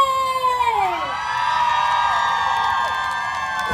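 A Workpoint on Tour concert crowd at Talad Ninja in Chonburi screams and cheers continuously, a dense, loud wash of high-pitched voices with shrill rising and falling shrieks throughout.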